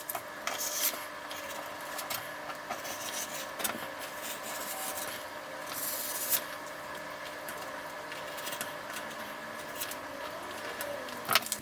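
Scissors cut through men's shirt fabric to make a baby romper, giving a soft, continuous rubbing and snipping texture close by across several seconds, with faint background noise.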